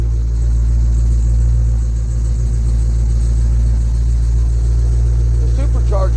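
Supercharged Dodge Demon idling with a steady deep engine rumble close by, with a brief faint rising whine near the end as it revs.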